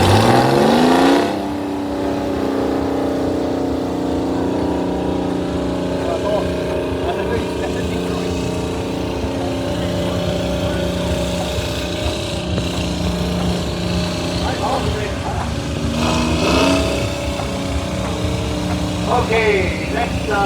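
A Detroit Diesel-powered tractor rolling past in a tractor parade at a historical engineers' show, a loud steady diesel drone after a sharp start, with an announcer talking over it.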